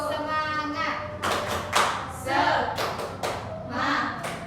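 A classroom of children does a rhythmic spirit clap led by their teacher, sharp grouped claps in a patterned beat alternating with chanted voices.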